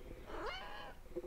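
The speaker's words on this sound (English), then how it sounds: "Is there a cat meowing?" A single drawn-out cat meow rises and falls over about half a second, moderately close, followed by a faint short chirp.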